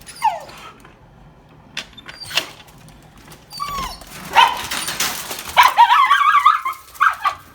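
Several dogs outdoors bark, yip and whimper in short excited bursts that grow busier and louder toward the end, close by, with no talking.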